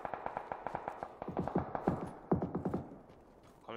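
Distant gunfire in the PUBG battle royale video game, rapid strings of sharp cracks in quick bursts, fairly faint, followed by a few heavier reports before fading out.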